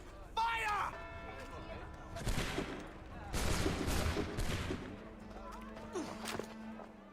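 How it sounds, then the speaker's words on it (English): Musket volley in the Assassin's Creed III video game, set at the Boston Massacre: a few ragged crackling bursts of shots over several seconds, mixed with shouting and crowd noise in a busy game scene. "Fire!"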